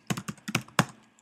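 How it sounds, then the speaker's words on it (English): Rapid keystrokes on a computer keyboard while entering a web address, about seven close, crisp clicks in quick irregular succession with no talking. "then I'll just type in the address that we're linking to"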